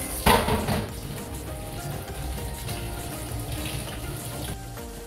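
Tap water runs steadily into a sink as string beans and Baguio beans are washed, a continuous close splashing flow with a louder burst at the start.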